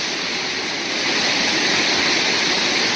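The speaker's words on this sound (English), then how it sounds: "there's a little waterfall on top that cuts down through that rock" A small waterfall spills down through rock on a hiking trail in Kananaskis, making a steady, dense rush of falling water heard up close and loud with no voices over it.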